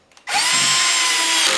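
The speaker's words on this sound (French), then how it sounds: "Attention dans un panneau de particules de ne pas mettre votre perceuse trop forte." Power drill driving screws into particle board during cabinet box assembly, a loud steady high whine held for over a second after a brief start, close and alone.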